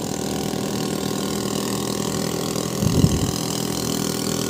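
Motorbikes labor along a rough, damaged road, their mid-pitched engines droning steadily and close, with a brief louder rumble as one passes near the middle. No talking is heard.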